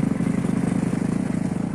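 A voice buzzes in a steady, rapid low drone, imitating a lawn mower engine, close and fairly loud, with a pulsing rhythm throughout.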